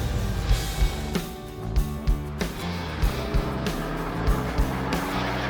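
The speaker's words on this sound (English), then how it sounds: "This car's driving great." A custom car drives along with a steady engine and road roar, loud and close, with rhythmic bumps and surges recurring every half second or so throughout.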